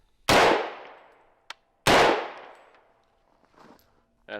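Two loud, sharp gunshots from a .45 ACP submachine gun ring out about a second and a half apart, each followed by a long echoing decay, with small clicks between.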